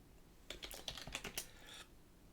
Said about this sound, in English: I'm typing my password.